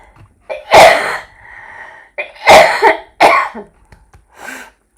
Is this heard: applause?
no